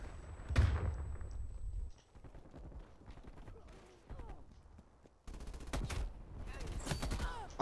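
Shotgun blasts in Call of Duty Cold War fire as sharp, loud booms in quick irregular bursts, mixed with other gunfire and clatter, with a voice briefly audible between shots.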